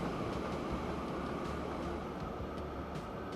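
Freight train hauling oil in the video game Transport Fever 2 on a canyon map, a steady close rumble of wagons rolling along the rails with faint clicks, continuous and alone without any voices.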